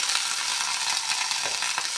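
Moringa leaves sizzle steadily as they fry in a pan for a homemade tambli, with a spatula stirring through them now and then, close and moderately loud, no voices.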